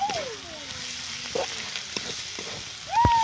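Bhuso shrimp frying in a pan with chili powder, a steady broadband sizzle with occasional stirring scrapes and clinks, close and moderately loud, with a voice briefly heard over it.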